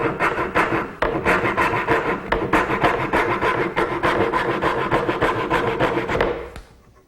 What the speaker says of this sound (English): The final cuts for the tenon are made with this little dovetailing saw.